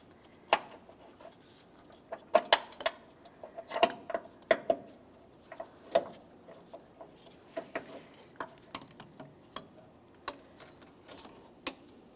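Metal belt tensioner assembly on a 2014-2018 Mazda 3 engine being slid off its mounting stud, giving a series of close, sharp metallic clicks and clinks in irregular rhythm.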